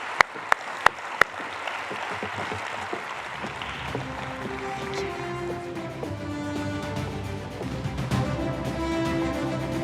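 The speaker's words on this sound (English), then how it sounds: "Please give them a warm round of applause." An audience in the Darling Harbour Theatre applauds at the host nation plenary of the 76th International Astronautical Congress. A few sharp taps come first, then a sustained wash of clapping blends with tonal music.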